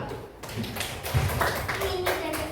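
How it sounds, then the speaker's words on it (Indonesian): Students in a classroom clap together in sharp, uneven bursts of hand claps close by, mixed with talking voices throughout. "Beri tepuk tangan."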